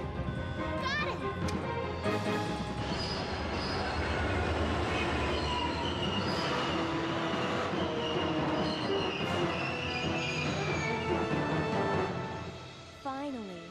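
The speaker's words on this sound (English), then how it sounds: "Will somebody just stop the damn train, please?" A video game train rumbles and screeches steadily with metallic squeals and clatter, loud and continuous, with a few short shouted voices over the noise.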